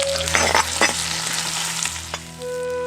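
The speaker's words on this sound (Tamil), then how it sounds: "வெங்காயத்தை நல்லா வதக்கிட்டு" Small shallots sauté with curry leaves and asafoetida in about three tablespoons of hot oil in a pan. A loud, close, continuous sizzle and crackle runs throughout, with no talking.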